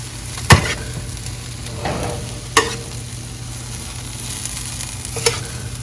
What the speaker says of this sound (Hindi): तरह से हम इसको बार बार चम्मच चलाएंगे, इसकी साइड चेंज करेंगे।